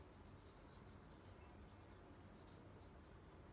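A pencil scratches short, quick cross-hatching strokes on paper in bursts and pauses, faint and close, with no talking.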